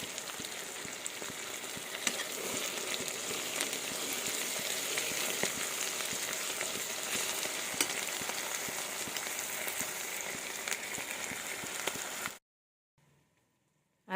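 Chopped onions sizzle and crackle in a hot pan for egg pasta, a dense, steady frying hiss heard up close, then it cuts off abruptly into near silence just before the end.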